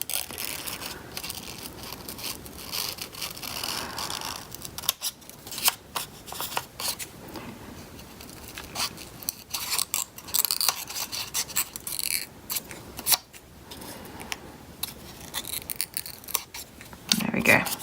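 Scissors snip through paper in repeated crisp cuts and scrapes while cutting out a paper ballerina bookmark, close up and fairly quiet, with occasional pauses.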